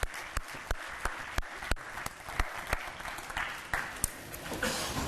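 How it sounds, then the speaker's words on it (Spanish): Sustained applause from a conference audience at a panel session on dual vocational education, dense clapping with a few sharper claps standing out, steady and fairly loud throughout with no talk over it. "Recibámoslos con un fuerte aplauso"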